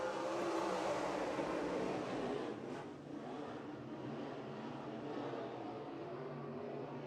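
Modified race cars roar around a short track at an East Bay WinterNationals night race, a dense, sustained engine drone from the pack, loud and fairly constant with a slight dip midway, no talk over it.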